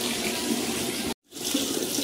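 Tap water pours steadily into a sink in a home bathroom, cutting off abruptly for a moment before the flow resumes, close and continuous with no voices.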